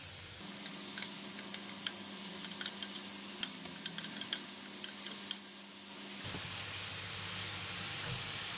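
Curry paste fries with onions in a pan, making a soft, steady sizzle dotted with faint crackles and pops, quiet and continuous throughout.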